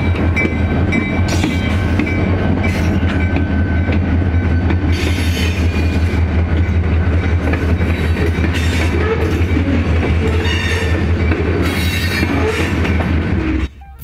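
Keokuk Junction Railway GP-20 locomotives and cars rolling past on the tracks, a loud continuous rumble with rattling, clanking wheels and creaking cars rocking back and forth, close by, with no talking, cutting off abruptly at the end.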